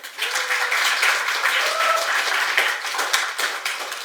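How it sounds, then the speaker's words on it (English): A lecture audience gives a student a round of applause, a continuous, even rush of many hands clapping in a room, fairly loud and close, tapering slightly at the end. "Can we have a round of applause for him?"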